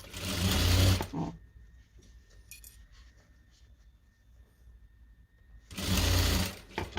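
A sewing machine runs in two loud, brief bursts while stitching a small fabric bag, separated by a quieter stretch of light clinks and handling noises.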